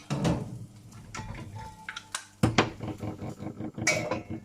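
A small lid is set onto a saucepan of salted water holding potatoes, giving close, sharp metallic clinks and rattles that repeat in a short irregular cluster.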